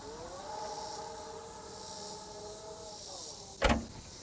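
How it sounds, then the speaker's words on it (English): Rear air suspension of a 2026 Volvo XC90 lowering or raising the back at the trunk, a faint steady electric whine with a rising-then-falling tone, ending in a short sharp clunk near the close. "two buttons on the right side of the trunk which allow you to lower and raise the back of your XC90"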